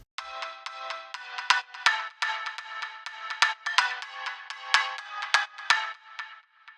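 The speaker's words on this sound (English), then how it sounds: "And that's just a Nexus layer called PL Bells 1." A Nexus synth bell layer called PL Bells 1 with delay plays a bright, chiming melodic pattern of quick plucked notes, with echoing repeats trailing behind each hit, alone and fairly soft.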